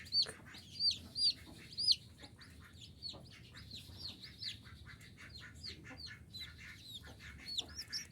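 A broody hen used for hatching chicks clucks and calls repeatedly, with a few louder, sharper clucks early on and then a steadier run of softer clucking close by, with no talking.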